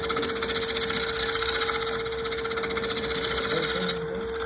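A lathe tool scrapes across the top of a spinning wooden bowl to flatten it, giving a steady, close, gritty rasping drone with a constant motor tone beneath, continuing unbroken for several seconds before easing slightly near the end.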